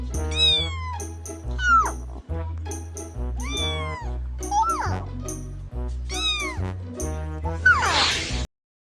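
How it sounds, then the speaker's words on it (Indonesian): A cat meows repeatedly in a back-and-forth exchange, several clear meows with short gaps between them, close and fairly loud. "sang kucing pun merespon setiap bunyi yang diucapkan bocah tersebut"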